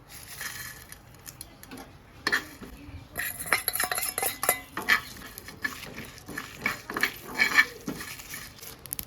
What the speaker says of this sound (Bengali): আমি সমস্ত আলুগুলো কেটে নেব